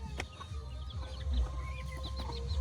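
Farm chickens cluck in a quick series of short calls at moderate distance over a steady low background rumble, with no speech.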